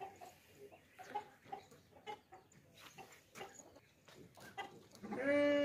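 Goats and chickens at a livestock sale, with repeated short bleats and clucks scattered through a busy farmyard, ending in a louder sustained call up close.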